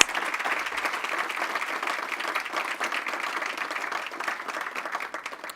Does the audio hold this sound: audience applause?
yes